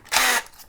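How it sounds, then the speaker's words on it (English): A power drill bores out a part on a custom Firebird car build, one short, loud whirring burst lasting about a quarter second, alone. "So now I'm going to drill it out and"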